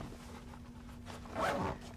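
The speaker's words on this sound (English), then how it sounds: "normally you would zip this up" Zipper pulled shut on a Think Tank Hydrophobia camera rain cover fitted for a monopod, a single quick rasping zip near the microphone after a quiet pause, with no talking.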